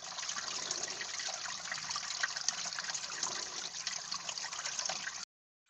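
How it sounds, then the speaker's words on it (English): Steady, continuous rush of running water, broadband and unbroken for about five seconds before cutting off abruptly. "But you can't beat the sound of running water."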